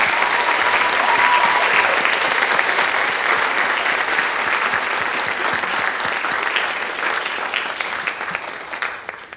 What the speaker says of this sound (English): give first one big round of applause to the entire crew and the dancer and everyone assembled here